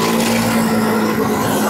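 A vintage 1973 Evinrude Trailmaster snowmobile with a 35-horsepower rotary engine runs steadily with a strong low drone, loud and close throughout the short stretch with no talk.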